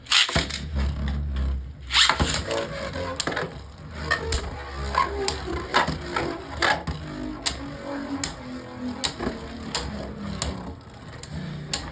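Beyblade Burst tops Astral Spryzen and Bolt clash in a plastic stadium, giving a dense run of sharp clacks and scraping knocks over a steady whirring grind, loud and close throughout.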